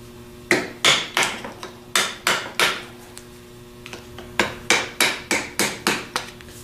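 A hammer taps a small chisel against a threaded freeze plug, sharp metallic strikes in two bursts of about eight evenly paced hits each with a short pause between, loud and close with no talking.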